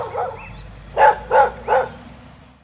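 A dog barks three times in a quick, even sequence, loud and close, after a softer whine or yip at the start.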